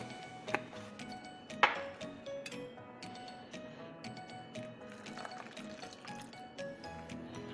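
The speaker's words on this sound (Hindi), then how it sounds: "और इसमें डालेंगे हम गर्म पानी।" Hot water poured over instant coffee and ground sugar in a cup, a soft, steady liquid fill heard close, with a couple of light clinks near the start.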